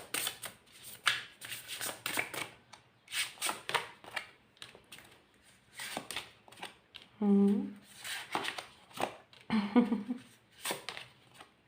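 Tarot cards being shuffled by hand in bursts of crisp riffling and slapping, close up, alternating with stretches of a voice talking between shuffles.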